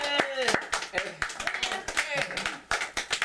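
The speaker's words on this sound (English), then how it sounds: "Clap." A child claps hands at a family reunion, sharp separate claps scattered among people talking and exclaiming close by.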